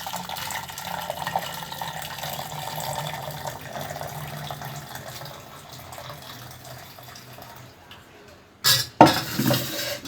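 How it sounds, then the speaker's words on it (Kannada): Tomato, onion, tamarind and cooked lentils for rasam are mashed in a pot: soft, quiet stirring and scraping through most of the clip, then a couple of sharp utensil clanks near the end. "ಟೊಮೆಟೊ ಈರುಳ್ಳಿ ಬೇಳೆನ ಸ್ವಲ್ಪ ಮಸಿಬೇಕು."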